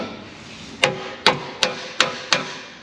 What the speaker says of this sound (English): after you weld it, you gotta hammer out your weld